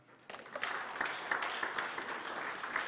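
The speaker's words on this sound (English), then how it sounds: "please give a big hand of applause for Class" Seminar attendees applaud a speaker, clapping starting abruptly and holding at a moderate, fairly distant level, with individual claps standing out in the wash.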